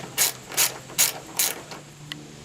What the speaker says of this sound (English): I'm using a 14mm deep well socket with an extension, so I'm not fighting with all this stuff.